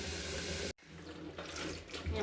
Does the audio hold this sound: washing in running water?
yes